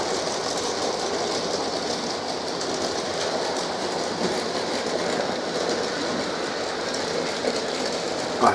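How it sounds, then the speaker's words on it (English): Model railway locomotives running on a multi-line layout, a steady close rumble and whir of motors with continuous rail clatter and faint wheel squeal, unbroken throughout. "And now I'll see if I can get some locos running."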